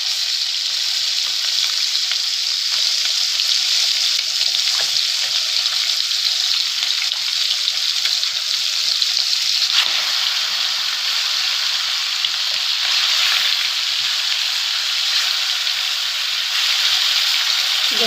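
Fish fat frying in a pan makes a constant, bright hissing sizzle with fine crackles. It holds close and even for the whole stretch, with no voices.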